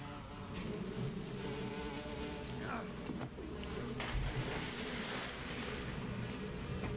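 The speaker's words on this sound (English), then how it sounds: "Yep, the bee boss." Swarming hornets from the Pain boss fight in the video game Metal Gear Solid 3 drone as a steady, dense buzz over a low rumbling water-like ambience, continuous and fairly loud throughout.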